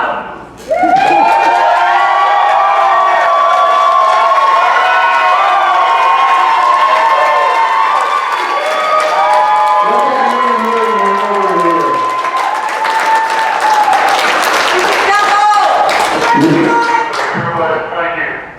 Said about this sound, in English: these people were screaming, brother. We couldn't hear you.